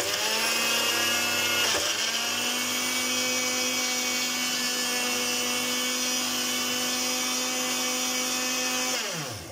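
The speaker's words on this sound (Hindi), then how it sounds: "ग्राइंडर के अंदर डाल के इसको इस तरह का, ये देखिए थोड़ा थोड़ा डाल के तो इसको ग्राइंड कर लें।" An electric kitchen grinder reduces bread pieces to crumbs with a loud, steady high whine. It runs for about nine seconds with a brief dip early on, then winds down at the end.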